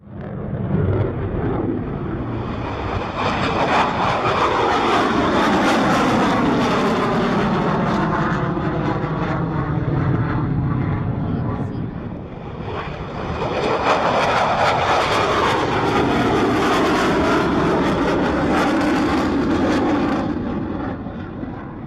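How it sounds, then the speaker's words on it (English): A loud, roaring F-16 fighter jet engine rumbles continuously with a sweeping, whining drone that swells, dips briefly, then surges again as the jet lands close by at Homestead Air Reserve Base. "this is the sound of an F-16 landing at the Homestead Air Reserve Base"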